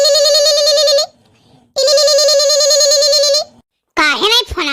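A phone rings unanswered with two long, loud electronic tone bursts separated by a short pause, then a voice starts talking right after the ringing stops.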